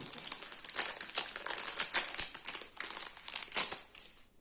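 A Wankul trading card booster pack wrapper crinkles and crackles in close, uneven bursts as it is torn open and handled.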